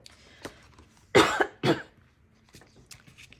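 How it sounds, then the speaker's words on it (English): A person coughs while working on a watercolor floral painting, a couple of loud close harsh coughs in quick succession, preceded and followed by faint throat sounds and breaths in an otherwise quiet room. "I keep coughing."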